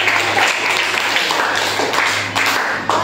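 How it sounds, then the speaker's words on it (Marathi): An audience applauds a school quiz contestant, a dense burst of clapping from many hands that fills the room for a few seconds, with a faint low hum beneath it. "अस्मितासाठी सगळ्यांनी टाळ्या"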